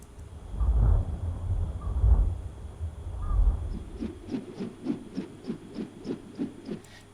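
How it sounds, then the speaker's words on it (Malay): A spinning sound effect for a rotating tomato, starting with low whooshing swells and then turning into a rapid, evenly pulsed whirring that repeats about ten times, moderately quiet. "aku tambah efek bunyi spinning untuk tunjukkan kata buah tomato tu berpusing"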